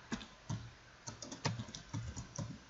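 Computer keyboard typing while writing code, a steady run of close, moderately quiet key clicks in irregular clusters of a few strokes, with no voices.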